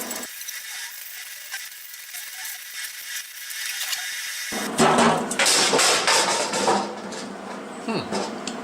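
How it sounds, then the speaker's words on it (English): A stainless steel wire brush scrubs aluminum scrap pieces, starting as a thin hiss then turning to loud, rough rasping strokes near the end, with someone talking over it. "I'm going to get some acetone and a stainless steel wire brush, and we're going to clean these things up"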